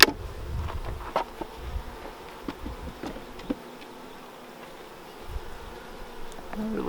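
Honey bees buzz close by around an open hive during an inspection, a soft, wavering hum with individual bees zipping past, plus occasional handling clicks and knocks.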